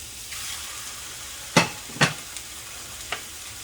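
Rice noodles with shrimp tossed in a wok over high heat, a low sizzle broken by a few sharp scraping stir strokes.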